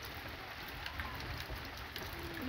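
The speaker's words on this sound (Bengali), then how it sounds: "আর এখন বৃষ্টি থামার নাম করছে না" Steady rain falls under an overcast sky in a rural yard where a river embankment has flooded the road, a continuous even patter close by with no talking.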